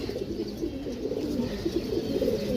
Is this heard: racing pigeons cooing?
yes